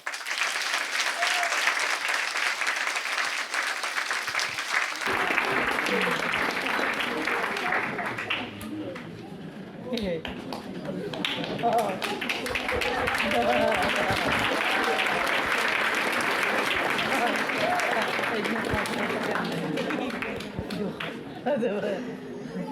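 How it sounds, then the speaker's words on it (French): An audience at a Mother's Day sketch show applauds four invited mothers, a long, sustained round of clapping from a large crowd with murmured chatter and a few laughs mixed in, fading briefly midway before rising again. "je vous demande de bien les applaudir"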